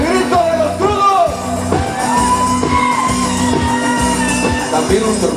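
Wedding guests shout together in a loud, sustained crowd of yells and whoops, voices rising and falling in rough unison throughout.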